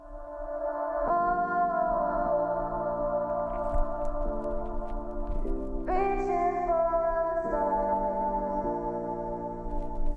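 A song plays back through FAR On Audio A10 noise-cancelling headphones, a steady tonal melody with shifting chords heard for about ten seconds without any talking.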